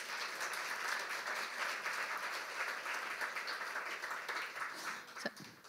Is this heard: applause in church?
yes